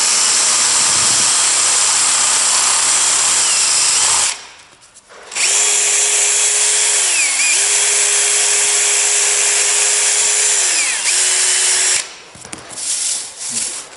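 An electric drill fitted with a red cloth buffing wheel polishes a 40-year-old narrowboat porthole: a loud, close, high whine running continuously, cutting out briefly twice, with pitch sagging as the wheel is pressed onto the metal.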